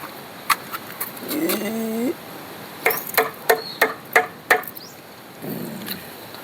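Pigeons coo softly nearby, with several sharp tapping knocks in a quick series between the calls.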